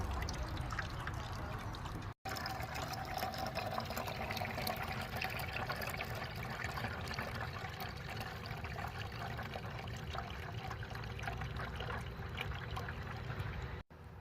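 Rye mash liquid trickles out of the vessel during the sparge of an all-grain rye wash, a steady, faint run of liquid with a brief drop-out before it resumes.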